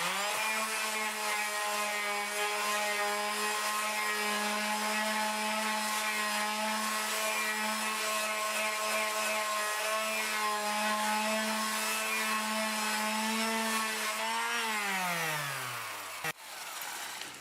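A wood lathe turns a mesquite piece at about 400 RPM while 100-grit sandpaper is pressed against it, giving a steady, loud motor hum with a rubbing hiss. The pitch drops as the lathe spins down near the end.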